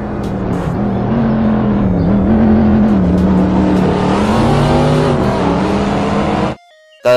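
A toy race car's engine sound whines and revs continuously with shifting pitch, loud and close, then cuts off abruptly near the end.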